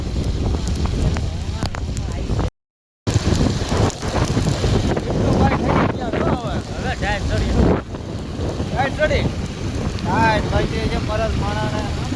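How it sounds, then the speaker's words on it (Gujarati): Heavy rain pours down in strong wind, making a dense, constant roar with gusty buffeting close to the microphone. People talk over the downpour throughout, and there is one brief gap of silence. "આ બાજુ જોવો તેનો વરસાદ ભૂકા કાઢે ને"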